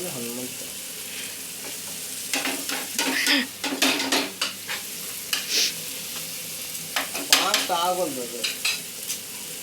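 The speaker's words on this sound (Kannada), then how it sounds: "ಇದು ನೋಡಿ, ಈರುಳ್ಳಿ ಕರಿಬೇವು ಚೆನ್ನಾಗಿ ಬೆಂದ್ಕೊಂಡಿದೆ" Onion and curry leaves frying in a pan, a steady sizzle broken by repeated scraping and clanking of a spatula against metal, close and lively, with no clear speech.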